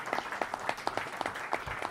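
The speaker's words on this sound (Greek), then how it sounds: "Το χειροκροτάει και ο ίδιος." Audience applause at a Greek political speech in a hall in Astoria, with steady clapping from a crowd heard moderately close, continuous through the moment.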